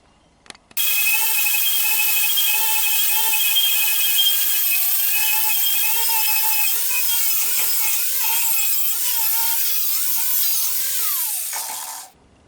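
An abrasive disc grinds the top layer off steel to leave clean metal for welding on a replica axe build, a loud, continuous high whine with a shifting pitch that runs for about eleven seconds before cutting off.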